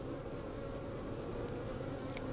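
Honey bees buzz in a dense, steady hum close by during a beehive inspection, with no one talking.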